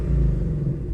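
Deep, throaty exhaust roar from a supercharged Ford Mustang Shelby GT500 in track exhaust mode. A loud, steady low rumble fills the short moment with no talking.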